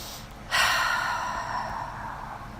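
One slow, audible inhale during a guided meditation, entering sharply and then tapering into a long, soft airy breath close to the mic, with no talking.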